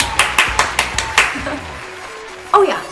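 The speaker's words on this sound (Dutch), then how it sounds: "Applaus!" A handful of claps lands in a quick, even rhythm near the mic for about a second, then fades, with speech following in a Dutch children's programme.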